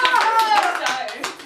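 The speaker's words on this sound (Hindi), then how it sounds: "अनुश्री सुब्रमण्यम तालियां" Audience applause greets a guest being introduced on stage at a comedy karaoke show, a loud, dense wash of clapping lasting the whole moment, with a high whistle or voice sliding over it early on.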